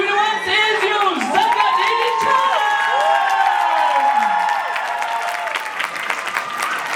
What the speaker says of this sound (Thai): ขอเสียงปรบมือต้อนรับทุกท่านกับ